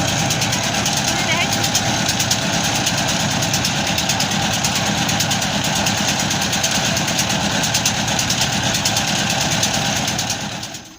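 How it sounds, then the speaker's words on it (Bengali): A trawler boat's engine drones steadily and loudly for the whole crossing of a village river ferry ghat, a constant close rumble with faint voices beneath it, fading slightly at the very end. "এখন ট্রলারে উঠে সবাই ওপারে চলে যাব।"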